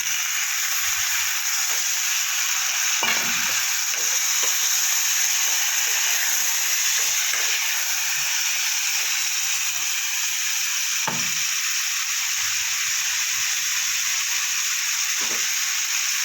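Sliced potatoes frying with reddened onions in a pan for a bitter gourd chorchori: a steady, even sizzle runs throughout, with occasional faint clinks and scrapes of stirring.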